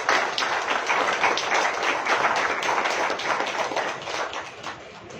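Audience clapping at a short film screening in an auditorium, a dense, steady patter of many hands that carries on for several seconds and eases off slightly at the end.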